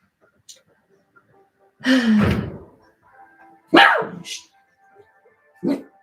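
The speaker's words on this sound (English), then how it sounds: "Sorry about my dog barking." A pet dog barks indoors in a few loud, close bursts spread across several seconds, with quiet gaps between them.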